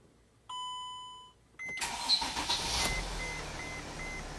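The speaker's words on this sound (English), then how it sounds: "So now I'm going to start the engine so we can confirm the customer's complaint." A 2013 Mercedes Sprinter van with an AdBlue metering valve electrical fault: a dashboard chime, then the starter cranks and the engine catches, settling into a steady idle close by.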